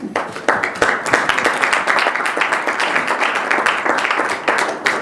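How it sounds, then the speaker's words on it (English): An audience of a small community group on fly tipping gives itself a round of applause, with dense, steady clapping from many hands filling the room for several seconds. "Can you give yourselves a round of applause?"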